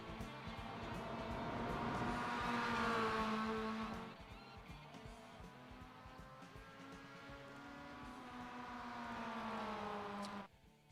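A Mazda MX-5 race car laps Road Atlanta on a hot track, its engine loud and close with rising and falling revs through gear changes, tires squealing in the corners, until the sound cuts off abruptly near the end.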